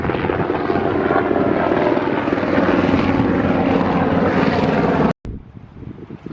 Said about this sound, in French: il y a des hélicoptères tout le temps